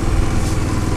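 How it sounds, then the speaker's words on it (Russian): A Galaxy scooter engine runs steadily close by, a loud, even low-pitched putter with a fast regular pulse and no break. "Заводим данный скутер. Скутер работает приятно."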